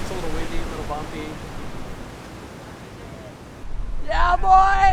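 Wind gusts and waves wash over open water in a steady broadband rush, with people talking briefly near the start and again more loudly at the end.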